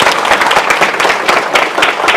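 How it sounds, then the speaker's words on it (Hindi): Loud, dense audience applause at an Indian network marketing gathering, many hands clapping together in a sustained close burst with no talking over it. "नारी शक्ति के लिए भी तालियां बजनी चाहिए।"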